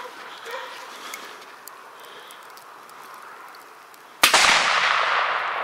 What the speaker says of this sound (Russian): Выстрел резкий.